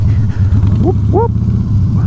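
A motorcycle engine rumbles steadily in the background, a low continuous drone with a couple of brief rising revs, heard alongside whooping voices nearby.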